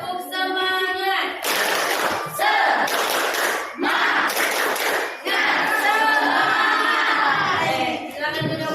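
A classroom group of standing students performs the tepuk semangat clapping routine, with several bursts of loud group clapping and shouting separated by brief pauses, fairly close and filling the room.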